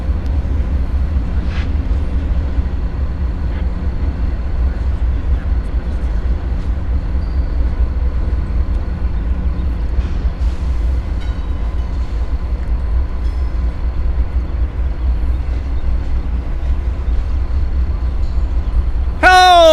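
A train with an Amtrak coach passes a trackside rail cam at Coffey's Cliff, a steady low rumble of rolling cars holding throughout, with a brief horn-like tonal burst near the end.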